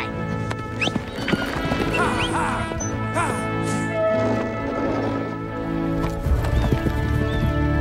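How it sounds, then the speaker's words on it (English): Horses clip-clop on hard ground in a Western setting, a busy run of overlapping hoofbeats with whinnies and neighs breaking through, fairly close and steady throughout. "Have you ever seen horses like them?"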